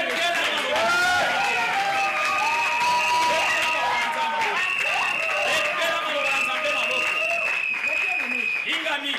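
A church congregation acclaims with loud, sustained applause and cheering, voices rising and calling out over the clapping.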